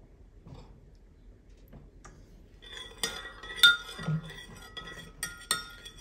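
A metal spoon stirs a vinegar sauce mixture for stuffed grape leaves in a glass container, giving a few sharp clinks that gather in the second half after a quiet start.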